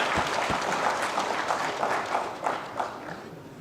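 Applause from inmates at a custodial centre pardon ceremony, a steady dense patter of many hands clapping at moderate volume with a few sharper claps standing out, continuing for several seconds.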